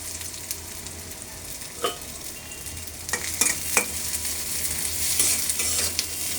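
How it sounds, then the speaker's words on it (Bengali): Onions frying in a pan until golden brown for a dried loitta fish curry; a continuous close sizzle with a few short scraping stirs, louder toward the end, no voices. "পেঁয়াজটা বেরেস্তা করে নিই"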